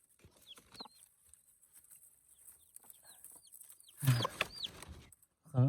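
Newly hatched native chicks peep in quick, high, scattered chirps close by, softly at first and then louder in a burst near the end, with a person's voice audible among them.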